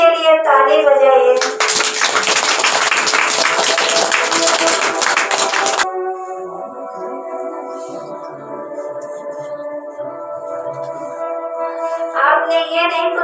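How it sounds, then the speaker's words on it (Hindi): An audience at a spiritual Holi gathering breaks into a burst of loud, dense clapping that lasts about four seconds and then stops abruptly, with music and singing before and after. "आप फिर से अपने लिए ताली बजाइए"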